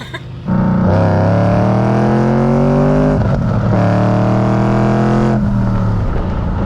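Supercharged Lincoln Town Car making about 400 wheel horsepower, with a Tremec manual gearbox, revving loudly and pulling up through gears, a steady rising engine drone broken by brief shift dips.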